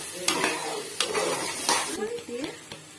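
Chilli sauce, tomato sauce and soy sauce stirred into a gravy in a pan, a spoon scraping and clinking in several distinct strokes over a low sizzle, close by.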